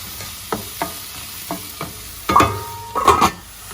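Minced fish with curry leaves cooks in a covered pan, heard as a series of sharp clatters and scrapes of a utensil and lid against the pan over a faint background sizzle.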